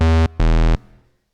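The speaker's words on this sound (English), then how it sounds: "I would start with a square wave on the oscillator A." Prophet-5 synth bass with a square wave on oscillator A plays two deep, buzzy, hollow notes of equal loudness with a short gap between them, the second fading quickly after release.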